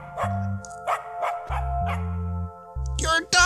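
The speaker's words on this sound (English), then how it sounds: "You're a dog!" Video game dog barking in short repeated yips and bow-wows over a steady musical drone, with low game tones underneath and a sharper whimpering cry at the end.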